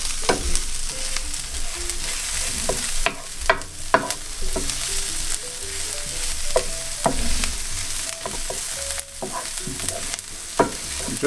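Onions sweating in a frying pan for a Spanish tortilla, a steady close sizzle with repeated sharp clicks and scrapes of stirring, alone without talk.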